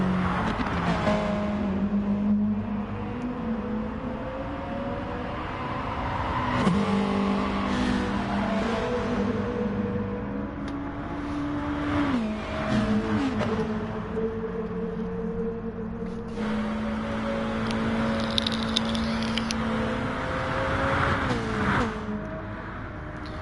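GT1 race cars in a racing video game on the Tokyo South Outer Loop, engines droning and shifting pitch as cars race past one another in a slipstream, a steady layered roar with no voices.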